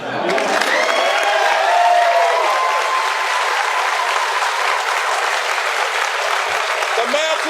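A graduation audience for a career recruit class bursts into sustained, loud applause, with some cheering and a few voices heard through the steady clapping throughout.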